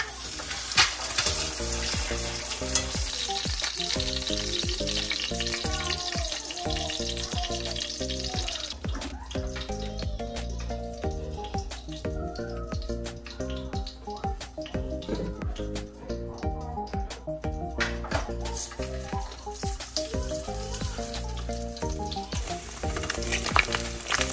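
Eggs frying in a pan on a home kitchen stove, a steady bright sizzle running throughout with faint clatter and background sounds underneath.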